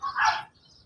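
Rambo, a dog, gives a single short bark up close, a quick sharp yelp that fades within half a second to quiet.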